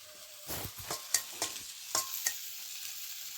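Prawns fry in a pan of hot oil: a steady close sizzle runs throughout, broken by several sharper scrapes and knocks as the pieces are stirred and turned, with no talk.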